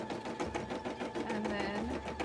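A sewing machine stitches sequins in a steady, fast mechanical whir that runs without pause, with a soft voice faintly underneath.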